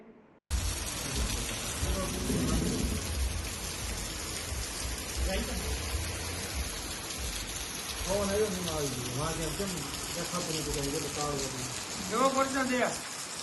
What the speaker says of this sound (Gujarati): વીજળીના કડાકા ભડાકા સાથે રાત્રિના 12 વાગ્યાથી લઈને 1 વાગ્યા સુધી અવિરત વરસાદ વરસ્યો।